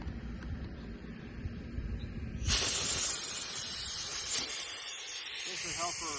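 Pressure is released from an AC line set after a pressure test: a sudden, loud, sustained hiss of escaping gas bursts in after a quiet start and continues steadily to the end.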